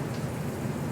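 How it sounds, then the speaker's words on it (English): Steady rain pours down outside in a dense, even hiss, fairly loud and continuous throughout, with no voices over it. "The rain is coming down right now"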